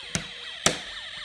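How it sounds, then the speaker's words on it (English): A Snap Circuits toy sound module plays an electronic police-siren tone, a thin warbling wail that repeats in quick up-and-down sweeps, with two sharp clicks from the circuit, heard close with no talk. "if I take it off, you'll only hear the police car."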